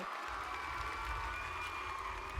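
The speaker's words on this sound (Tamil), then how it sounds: "மீண்டும் இந்த அமேசிங்கான டீமுக்கு பெரிய கைத்தட்டல் கொடுத்துருங்க" Audience applause for a team at a Tamil-language stage event, a dense steady patter of many hands clapping with some crowd noise, moderately loud and continuous throughout.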